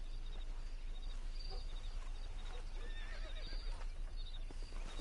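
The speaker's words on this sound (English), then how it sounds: "That ranch hand said there's a pack of wild horses nearby." A pack of wild horses in the Red Dead Redemption video game whinnies faintly in the distance over a low steady rumble, with scattered hoof clops and no talking.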